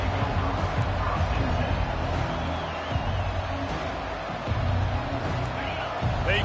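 Dense, steady stadium crowd roar filling a college football game between Texas A&M and Auburn, a continuous loud hubbub with surges and no clear individual voices.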